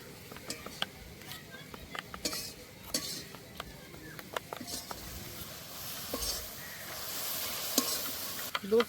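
Packet milk being stirred into hot water in a pot for carrot payesh, a spoon scraping and clinking against the metal in quick irregular strokes over a soft bubbling sizzle, close and moderately loud.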